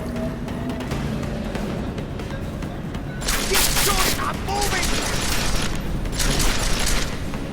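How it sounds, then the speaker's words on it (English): Gunfire in Deus Ex: Mankind Divided, with sustained bursts of automatic fire in a firefight that break out partway through and return after a short lull, heard over low background noise. "Lay down some cover fire!"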